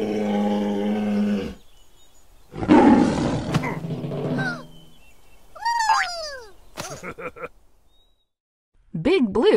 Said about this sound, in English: Big Blue kept them safe from the angry bear.